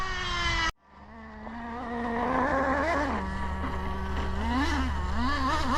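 A Nitro Slash nitro RC car engine on its maiden run, a loud high-pitched buzzing whine that cuts out briefly, then revs up and down repeatedly at close range, no talk.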